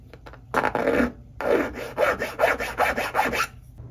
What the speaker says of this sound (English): Sand that down to make sure it's nice and flat.